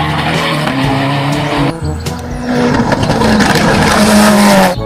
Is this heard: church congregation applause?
no